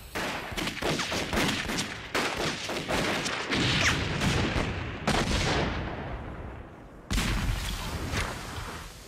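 Loud, dense gunfire from a wartime action film set in a forest, with bursts of rapid shots and booming reports filling the scene in several sharp sections, no speech audible.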